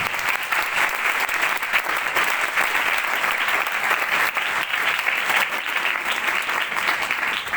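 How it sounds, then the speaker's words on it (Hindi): A worship congregation applauds loudly and steadily, a dense, continuous clapping that fills the whole stretch with only faint crowd murmur beneath. "जोर से ताली से खुदा की बजाते"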